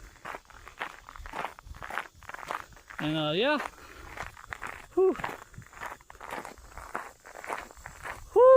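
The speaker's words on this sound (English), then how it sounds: "we're hitting gravel now, guys, so you're probably gonna hear my footsteps" Footsteps crunch along a gravel path on a warm outdoor nature walk, a steady series of close, soft steps heard under a walker's speech and breathing.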